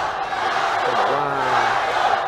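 Crowd of fans cheering for Chinese fighter Huang Daqiao at a Global Fight 2020 bout against Uzbek Ilkhomjon Khakimov, a dense continuous roar with chanting voices rising through the middle, under a commentator talking.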